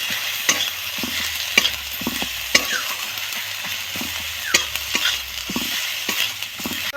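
Garlic paste and turmeric sizzle in a hot pan with oil, a steady bright frying hiss broken by regular scrapes and taps of a spoon stirring close by.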